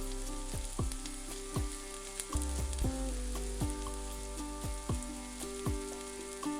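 Bay leaf, dry red chilli, whole cumin and chopped onion frying in hot oil with a continuous crackling sizzle and a steady low hum, with spatula taps and stirring scrapes recurring every second or so.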